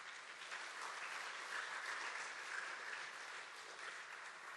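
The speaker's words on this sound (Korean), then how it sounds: "우리 다시 한번 하나님께 영광의 박수 드리겠습니다" A church congregation at a school campus Sunday worship service gives a short, even round of applause, heard quietly and at a distance as a steady wash of clapping.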